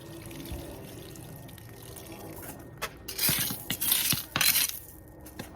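Water splashing and swishing as a bucket used for cold compost is rinsed out outdoors, a few bursts of sloshing after quieter handling noises.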